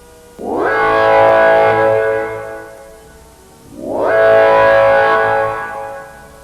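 Decontamination alarm from an analog horror piece: two long, loud, distorted rising-and-falling siren blasts, each swelling for about two and a half seconds with a short gap between, harsh and heavily processed.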